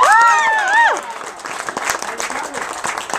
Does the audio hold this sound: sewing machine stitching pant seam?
no